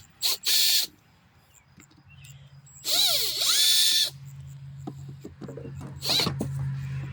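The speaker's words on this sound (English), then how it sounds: "taking them out is okay with a drill or impact" A power drill backs bolts out of a Poulan Pro push mower in three separate bursts of whirring and ratcheting, close by, with quiet handling clatter in the gaps.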